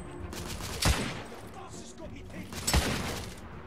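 Gunfire in the video game The Order: 1886, two heavy booming shots a couple of seconds apart over game background noise.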